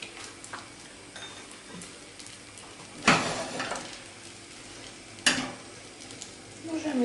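Omelette egg mixture sizzles softly in a frying pan with a steady frying hiss, interrupted by two sharp scraping stirs.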